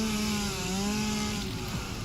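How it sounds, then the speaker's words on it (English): A solid-fuel-powered chainsaw runs at a steady idle. It makes a continuous buzzing engine drone with a low hum underneath, close and unbroken for two seconds, with no voices over it. "the solid fuel goes into here, which powers the chainsaw"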